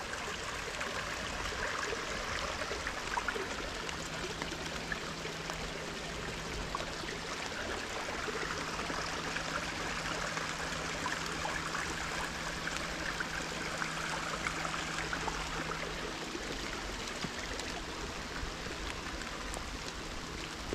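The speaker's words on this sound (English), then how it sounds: "we get a good view of the stream over here" Steady broadband rush of a stream flowing beneath a wooden footbridge in a Rhode Island forest, continuous and fairly close, with a faint low hum in the background and no talking.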